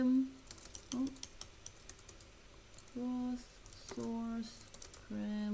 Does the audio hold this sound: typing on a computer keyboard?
yes